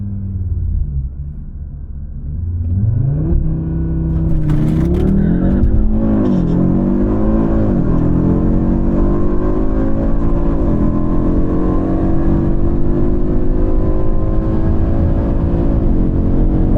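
Audi RS3 launching down a drag strip on an 11-second pass at about 121 mph: rumbling idle, then a loud engine rising in pitch through several gear changes, roaring steadily to the end.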